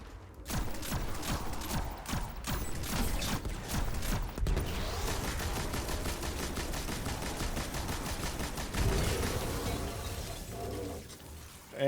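Gunfire in Destiny 2 rattles in rapid bursts of shots with mechanical clatter, dense and continuous near the listener, with short pauses.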